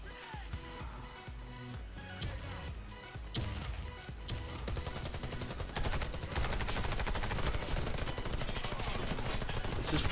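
Rapid gunfire fills a Warface match, with bursts of automatic shots early on and then dense, continuous firing, all fairly quiet.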